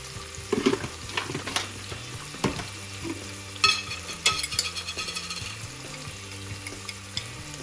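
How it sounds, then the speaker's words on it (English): Onions being stirred and fried with ginger garlic paste and salt in a pan for a vegetable kuruma, with steady sizzling and repeated scraping strokes of a spoon, close and clear with no talk. "1 spoon of ginger garlic paste, and then keep stirring"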